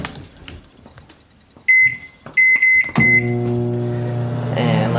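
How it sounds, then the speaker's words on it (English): A microwave oven heating wax in a measuring cup: a few sharp beeps as the timer is set, then a steady, loud, droning hum as it starts running. "Go to my microwave. I'll start out by putting it in for 2 minutes."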